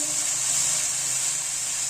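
Kofta masala with salt and Kashmiri chilli fries in a pan, giving off a continuous, even sizzle close up with no pauses.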